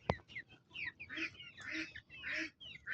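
Backyard chickens give a string of faint, throaty calls, several short murmuring notes in a row with brief gaps between, heard close but softly.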